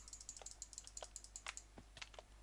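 Rapid, crisp clicking of a computer mouse or keyboard while playing BedWars in Minecraft: a run of quick, evenly spaced taps followed by a few scattered clicks, close up and alone with no talking.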